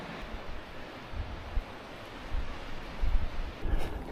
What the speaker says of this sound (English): Now the wind is strong.